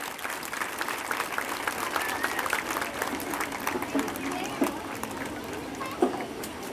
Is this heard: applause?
yes